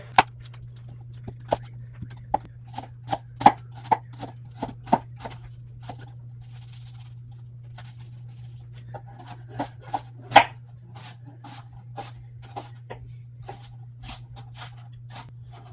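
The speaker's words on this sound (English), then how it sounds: "So let's cut an onion quick." An 8-inch Vosteed Morgan chef knife cutting through an old, slightly dried-out onion on a board, producing a run of crisp, separate chops at an uneven pace, with one sharper strike standing out over a low steady hum.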